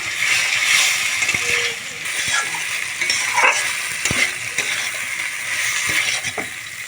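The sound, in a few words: frying fish-lentil fritters in spice paste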